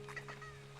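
Chickens cluck in the Slime Rancher 2 video game, a few short clucks close up over a steady electronic hum, with no talking.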